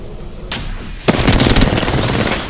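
Rapid bursts of automatic gunfire in an Apex Legends ranked arenas match, a brief shot and sharp crack, then dense sustained firing that stays loud to the end.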